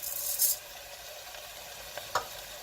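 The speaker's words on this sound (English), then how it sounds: "it's bubbling and frying pretty good" Red beans fry and bubble in a Cuisinart 4-cup rice cooker with a soft, steady sizzle, broken by a few quick scraping stirs.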